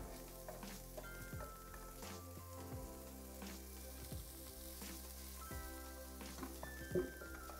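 Chicken gizzards frying in a little olive oil, a quiet, continuous crackling sizzle with scattered soft pops and faint clinks from the pan, and no talking.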